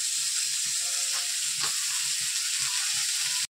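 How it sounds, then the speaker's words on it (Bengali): Food fries in a hot pan in a home kitchen, a bright, steady sizzle with faint scraping and clinks underneath, close and continuous until it cuts off abruptly at the end. "চলো এটা ভাজা হোক, পরে আসছি আবার।"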